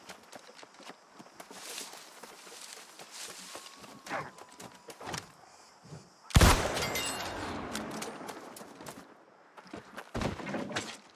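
Scattered sound effects from the PC game New World with light footsteps, then a sudden sharp gunshot that rings out loudly, followed by a few more clattering hits.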